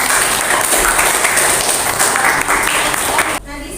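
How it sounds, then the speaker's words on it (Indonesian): Students in an Indonesian-language classroom clap for a classmate in a loud, dense burst of applause that continues for about three seconds before cutting off abruptly. "boleh kasih tepuk tangan buat"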